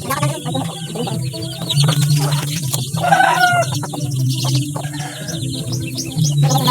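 Chickens cluck and chatter close by while pecking at pineapple peels, with busy overlapping calls, short squawks and scattered chirps over a steady background murmur.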